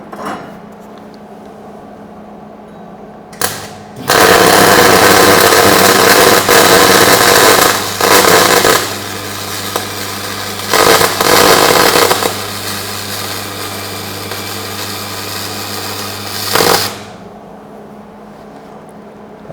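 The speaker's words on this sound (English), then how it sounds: "and then we're ready to weld." Welding with a welding gun produces a loud, steady crackling buzz in several bursts of a few seconds each, separated by short pauses, with a low hum beneath.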